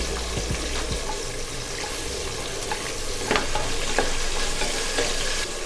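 Green chillies frying with onions and tomatoes in a pan for goat biryani, a steady sizzle with scattered clicks and stirring scrapes, close and moderately loud.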